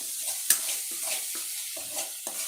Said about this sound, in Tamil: ஹை ஃப்ளேமில் வச்சு நல்லா வதக்கணும்னா அந்த கருவேப்பிலையும் நல்லா வதங்கிடும்